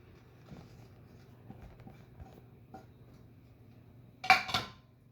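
Soft clinks and scrapes of a utensil stirring pasta and zucchini in a frying pan, sparse at first, ending in a brief louder clatter of metal close by.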